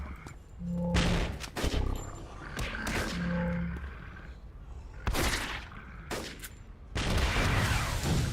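Repeated loud gun blasts from a City of Heroes fight crack out in irregular bursts, some clustered closely, among booming impacts and tonal game effects.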